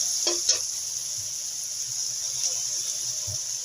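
Okra (bhindi) sizzling and frying in a pan as masala is added, a steady close hiss throughout with a couple of brief clinks and stirring sounds near the start.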